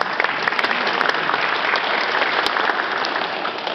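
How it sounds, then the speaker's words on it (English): An elementary school string ensemble concert crowd gives a round of applause to the music teacher, sustained, fairly loud clapping from a full room, with a few sharper individual claps popping out. "let's give him a round of applause"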